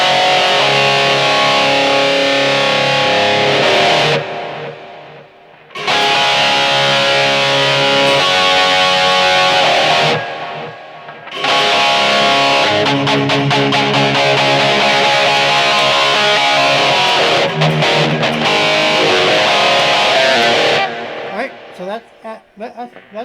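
An electric guitar played through a BOSS eBand JS-10 with a distorted tone and reverb set to 52, loud sustained chords and riffs in several phrases separated by short pauses.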